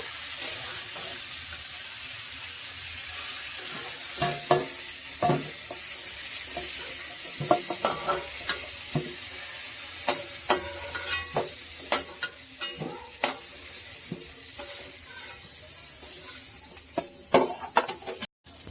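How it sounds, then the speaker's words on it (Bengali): Cauliflower fries in a pan, a continuous sizzle broken by frequent clinks and scrapes of a spatula stirring the pieces, close and moderately loud. "দেখতে পাচ্ছ আমার কপিটা ভাজা হয়ে গিয়েছে।"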